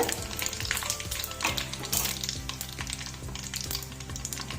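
Mustard seeds and tempering spices spluttering in hot oil for a tomato pickle, a dense close crackle with bursts of popping pops and steady sizzle throughout, no talking.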